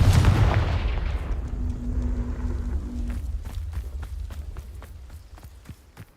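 Fire and blasting spells are cast in a video game: a loud, booming explosive burst rumbles and slowly fades, followed by a string of light, footstep-like ticks.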